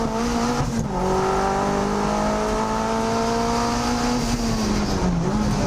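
A Mazda MX-5 race car on a time attack lap at AusTimeAttack 2023 gives a loud, sustained engine drone from close by, holding steady with short dips at gear changes, with no talk.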